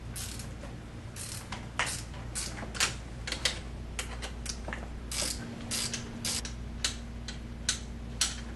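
A 10 millimeter open-ended wrench turns a bolt during a Ford F250 seat install, giving a soft series of irregular metallic clicks and ticks over a low steady hum.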